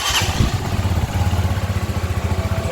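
A QJ Motor SRV 200 cruiser motorcycle, roughly 200 cc, idles up close with a steady low throbbing pulse, rising briefly at the start as the throttle is blipped, with no talk over it.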